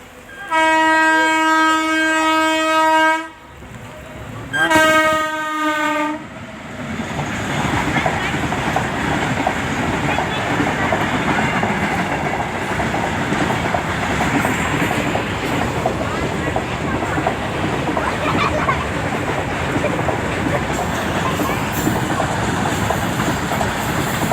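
Two loud blasts of a train horn, then a passing train's continuous rumbling and clattering of wheels close by.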